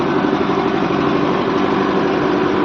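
A tractor engine ploughing a field of yellow soil, a loud, steady low drone running without a break and with no talk over it.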